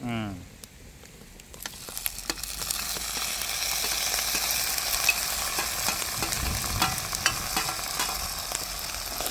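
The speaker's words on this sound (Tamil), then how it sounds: "இப்போ வெங்காயம் பச்சை மிளகாய் எல்லாம் நல்லா வதங்கி கொண்டு வருது" Onions and green chilies sauté in a pan at a village cooking spot, giving a steady, moderate sizzle that builds after a quieter start, with occasional stirring scrapes and faint voices underneath.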